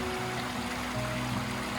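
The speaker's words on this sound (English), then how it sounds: "There's something about the way water sounds as it runs downhill." A small waterfall stream running downhill beside a mountain road along US-550 gives a steady, full rushing and splashing, constant throughout with no voices.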